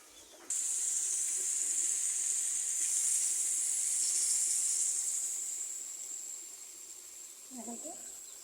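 Water poured into a hot pan on a stove sets off a sudden loud hiss that holds steady for several seconds, then slowly fades, with faint voices near the end.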